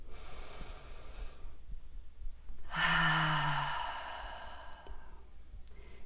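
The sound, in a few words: deep inhale and exhale during meditation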